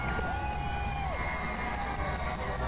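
Arena crowd at a Medieval Times knight tournament, a dense roar of screaming and cheering with a high shout cutting through, loud and continuous.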